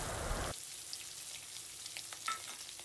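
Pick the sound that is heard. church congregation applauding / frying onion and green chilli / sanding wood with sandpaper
frying onion and green chilli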